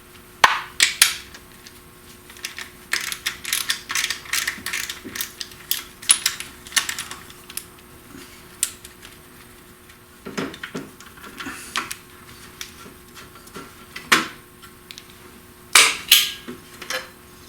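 Nuts and bolts being undone on a Classic Mini thermostat housing, with scattered close metallic clicks and ratcheting taps of a hand tool, irregular bursts with quiet gaps and no talk.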